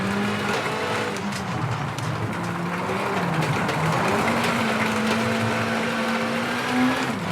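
Rally car from the WRC 8 video game running a lap at a steady, loud engine drone whose pitch rises and dips through gear changes, with constant road and tyre noise and no talking.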